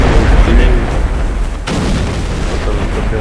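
Explosions in a Star Wars Geonosis campaign video game, with heavy booming blasts under someone speaking French and a sharp burst partway through.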